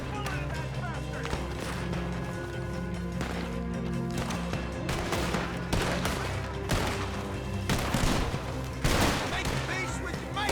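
Red Dead Redemption 2 gunfire comes as scattered shots and short bursts against a busy game background, with hooves clattering in places and voices speaking now and then.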